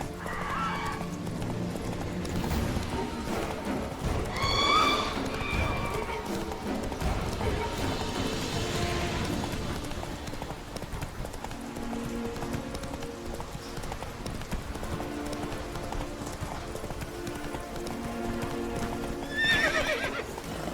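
Horse hooves clip-clop at a gallop in The Witcher 3 video game, with neighs and whinnies breaking through over a steady game music bed, continuous and fairly close throughout.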